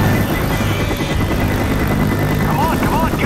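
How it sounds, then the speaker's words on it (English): Helicopter in the video game Left 4 Dead, a steady rotor drone filling the scene under constant game noise while players shout over it. "Choppers in there."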